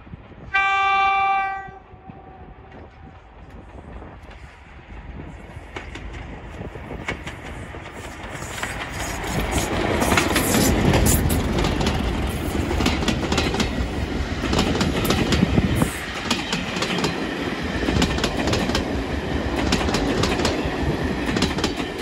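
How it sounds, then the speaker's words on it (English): Diesel locomotive 31327 hauls a passenger service on the Strathspey heritage railway in Scotland. A loud horn blast opens, then a long rising rumble and clatter of the train passing close by, with no talk. "we see the 12:15 service from Aviemore to Broomhill with 31327"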